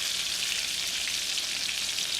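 A chicken cutlet fries in a pan with a steady, close sizzle of hot oil that holds at an even level throughout, with no voices.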